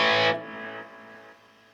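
Distorted electric guitar chord through a Boss Nextone Stage amp with 6V6 power valve simulation, a brief loud strike that quickly fades into a soft, sustained ring.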